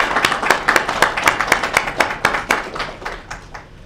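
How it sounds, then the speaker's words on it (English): A small group claps for families and friends at a December recognition ceremony, close and fairly loud, with distinct individual claps forming a brisk, uneven rhythm that thins out toward the end. "So let's give them a round of applause."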